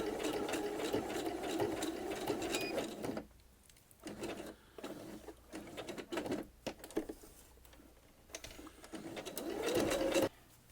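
A sewing machine stitches over cord for bobbin-work appliqué, running in a fast, steady rattling patter for a few seconds, then in short stop-start bursts, and finally a longer run with a rising motor whine.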